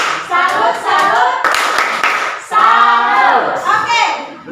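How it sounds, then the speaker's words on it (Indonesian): Students in a classroom clap for a presenting group while voices cheer and chant together over the steady applause, loud and close. "mari kita berikan tepuk tangan untuk kelompok 3"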